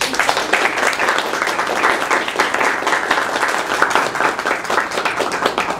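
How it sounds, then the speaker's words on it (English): An open mic night audience claps in a warm, continuous round of applause, dense and fairly close, holding steady for several seconds with individual claps standing out. "One last round of applause for everybody who was so amazing tonight."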